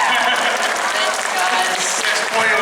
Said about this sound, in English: Can they clap for that?